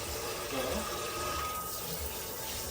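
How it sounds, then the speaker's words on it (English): Running water in a kitchen sink rinsing small bits of herbs out of a strainer, a steady, broad hiss and splash that stays even and fills the whole moment, close up with no talking. "rinse down all of those little bits of herbs without an H"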